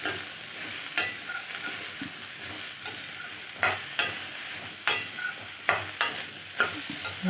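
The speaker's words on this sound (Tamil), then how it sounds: "இதை வந்து இந்த சூடான எண்ணெயில் அப்படியே நம்ம சேர்த்துடலாம். சேர்த்துட்டு இதை நல்லா கலரி விடலாம்." Chopped ingredients for a pachadi sizzle in hot oil in a pan while a spoon stirs them, giving a steady crackling fry broken by regular scraping strokes, close and continuous with no talking.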